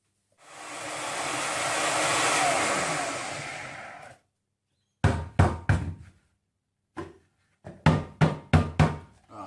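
A blender whirs through pancake batter for about four seconds in one steady burst, then stops and is followed by several short knocking taps.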